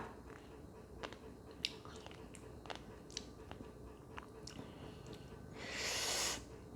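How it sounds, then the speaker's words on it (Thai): Someone chews raw salmon with crunchy shrimp roe close up, giving soft irregular wet bites and small crunches, followed by a brief louder breathy rush. "ไข่กุ้งกรุบกรุบหอมด้วยค่ะ"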